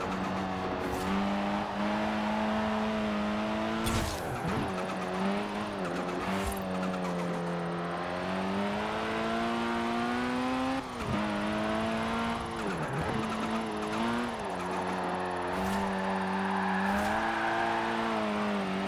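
Car engine in the racing game Forza Horizon 4 accelerating through the gears, a loud rising and falling tone with quick drops at each shift, heard steadily without talk.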